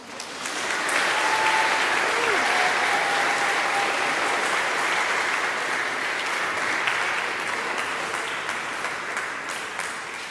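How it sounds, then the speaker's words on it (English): Sustained applause from an audience at an eighth-grade recognition ceremony at a school, a dense, even wash of many hands clapping that holds steady for about ten seconds before easing slightly. "So you can applaud one more time."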